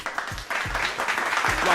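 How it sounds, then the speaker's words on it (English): Applause from a group of people in a room during a sports discussion show, a short burst of clapping with a few louder claps, mixed with faint voices. "y'all clap it up for him"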